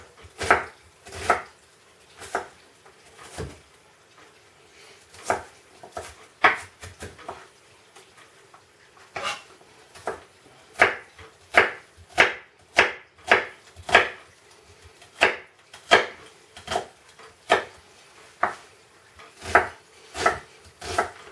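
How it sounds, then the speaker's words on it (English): A knife chops an onion finely on a cutting board for a broccoli soup, giving a long series of sharp, close knocks, at first irregular and spaced, then settling into a quicker, steady rhythm. "When I chop an onion, I kind of want this fine, I think."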